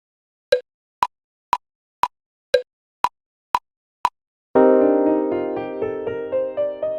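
Scale notes in Tessitura Pro, first a run of eight evenly spaced, plucky single tones, then a sustained layered chord with the notes retriggered in soft pulses, clean and alone.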